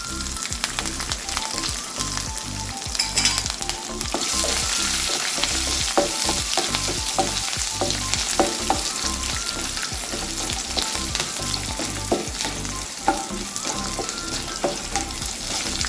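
Ginger and green chillies fry in hot oil with peanuts while cooking rice flake upma, a loud continuous sizzle up close with rapid, repeated stirring scrapes throughout.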